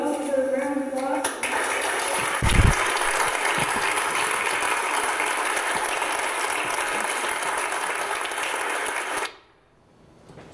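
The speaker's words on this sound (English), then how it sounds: "Please join me in a well-deserved round of applause." A large audience bursts into sustained applause for a WWII Army Air Corps pilot, dense clapping holding steady for several seconds before cutting off abruptly into near silence.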